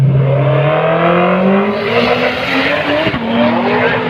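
A red Commodore and a little utility launch off the line at a sunset drag strip in Mildura, engines roaring loud and rising in pitch with tyre squeal, no voices over them.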